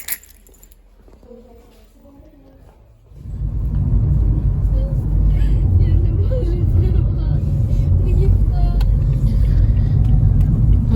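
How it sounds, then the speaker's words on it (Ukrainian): A car driving on the road for about six kilometres on a trip to Lidl in France; a steady, loud engine and road rumble starts after a quiet opening and continues throughout. "в нас машина тепер є і працює. Поїхали за 6 кілометрів."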